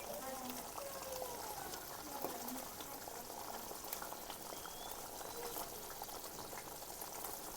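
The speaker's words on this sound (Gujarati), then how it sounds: "હવે આપણે આને ઉકળવા દેવાનું છે" Kantola curry simmers in a pot, a faint, steady bubbling and hiss with soft popping throughout, quiet and close, and a voice talking briefly in the background.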